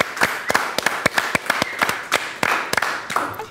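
Sparse, distinct claps from a small audience welcoming Dr. Romina Girotti before her lecture on melanoma, each clap crisp and separate in a loose, irregular rhythm.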